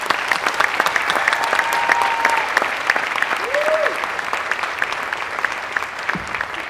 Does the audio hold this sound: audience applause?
yes